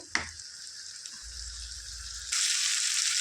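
Chicken pieces frying in a pan for a Telangana-style chicken curry give a steady bright sizzle, with a brief clatter near the start and a louder, more intense burst of sizzling toward the end; no one speaks.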